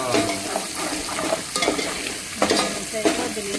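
Onions sizzle and fry in a pan as salt is added for a Telugu green pulao and chicken curry, with repeated scraping stirs of a spatula over a steady close crackle.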